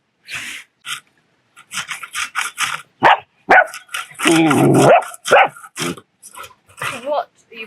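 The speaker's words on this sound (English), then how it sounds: "What are you barking at?" A dog barks in short bursts at close range in a home during a summer hailstorm in Portugal, mixed with a person talking and some rubbing or rasping noise.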